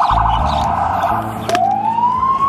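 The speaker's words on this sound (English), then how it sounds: "there's ambulances going past and you can hear sirens everywhere." Emergency sirens wail close by on a busy street, one tone warbling and then rising in a steady upward sweep as ambulances pass.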